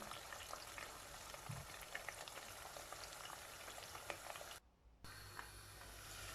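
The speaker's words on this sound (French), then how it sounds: "J'ajoute un peu d'oignon. Et je vais laisser bien frire." Chopped onion fries in very hot oil with rosemary in a pan for a turkey choukouya, giving a steady close sizzle that drops out briefly and then returns.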